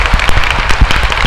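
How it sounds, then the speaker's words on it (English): A congregation at a Don Bosco shrine gathering in Ayanavaram claps loudly together, close and strong, with distinct individual claps popping through the dense applause. "Once again, all together, give a loud clap to Jesus"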